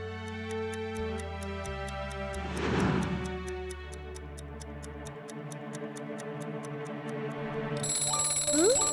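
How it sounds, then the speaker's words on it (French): In a children's cartoon, an alarm clock ticks in an even rhythm over light music, then breaks into a bright, sustained ringing near the end. "Le réveil sonne."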